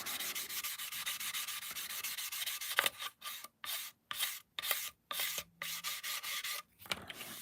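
Fine sandpaper, around 800 to 1,200 grit, rubs an Airfix Concorde model kit part: steady close scratching strokes that break into short rhythmic bursts with brief pauses, with no talking.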